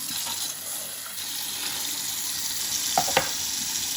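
Tumbled rocks being drained and rinsed under running water, a steady wash of flowing water with a couple of brief clattering splashes near the end.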